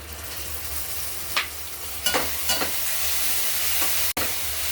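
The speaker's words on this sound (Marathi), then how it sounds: "आता याच्यामध्ये टोमॅटोची प्युरी घालू।" Tomato puree going into golden fried onions with ginger-garlic paste in a pan for chole: a steady oil sizzle with several scraping spoon strokes and a sharp clink near the end.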